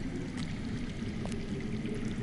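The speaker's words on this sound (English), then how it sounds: "I hear water. From underground." Water flows steadily in a muffled, continuous wash, as if running underground, in the Game of Thrones Telltale video game; the rush stays even throughout with no speech.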